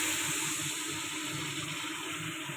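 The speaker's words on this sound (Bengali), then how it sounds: "এবার জল দিয়ে দেবো।" Water poured into a pan of simmering fish curry made with green banana and potato: a steady, close rushing and splashing that runs unbroken the whole time, with no voices.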